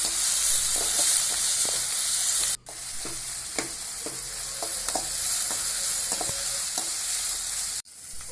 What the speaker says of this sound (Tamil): தக்காளி பொடிசாக வணங்கி ஒரு பொடிசாக நறுக்கி அப்படியே போட்டு நல்லா வணக்கணும்